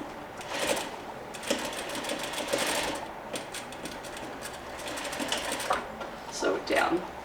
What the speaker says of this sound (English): sew it down.